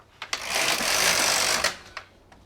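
A knitting machine carriage sweeps across a row of needles on a fingerless glove project, a loud, steady whirring rasp lasting about a second and a half, framed by sharp clacks at the start and end of the pass.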